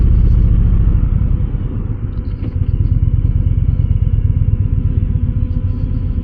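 Indian Challenger Dark Horse motorcycle engine heard while riding, a loud low steady rumble with throbbing pulses and wind, close and continuous with a slight dip then recovery in level, no talk.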